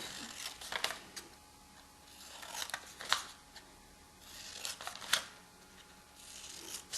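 Scissors cut out paper circles for a 3D Christmas-tree table decoration, giving a series of crisp, faint snips at an uneven pace in a quiet room.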